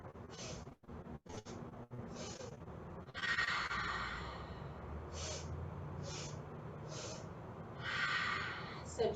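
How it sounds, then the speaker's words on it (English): Guided breathing exercise for letting go of anxiety: several short, breathy inhales in quick succession followed by longer audible exhales, soft and close in a quiet room. "it's inhale, inhale, inhale, the backs of the hands touch, and exhale out the mouth as you bring your hands down"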